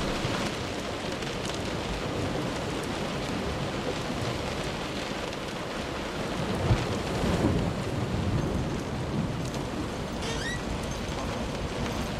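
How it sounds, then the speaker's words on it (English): In the video game Close To The Sun, continuous heavy rain hisses across the whole stretch, with a low rumble of thunder swelling in the middle, no voices. "No, it's raining."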